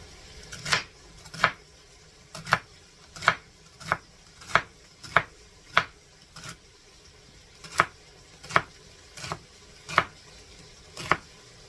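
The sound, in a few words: chopping celery ribs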